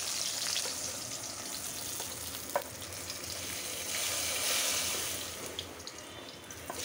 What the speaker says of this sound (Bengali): এখন বাগার দেব।